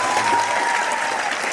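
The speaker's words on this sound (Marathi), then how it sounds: "अशाच टाळ्या वाजल्या त्यावेळी." Audience applause at a Shiv Jayanti speech event in Maharashtra, a dense, steady wash of clapping filling the space continuously at fairly loud level.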